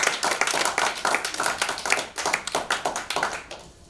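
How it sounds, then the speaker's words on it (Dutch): An audience applauds guests arriving on stage at a talk event, brisk close clapping from a modest crowd with individual hand strikes distinct, fading out at the end. "Mag ik alsjeblieft een heel warm applaus voor Tim van Dursen en Teddy Cherim"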